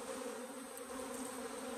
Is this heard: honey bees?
yes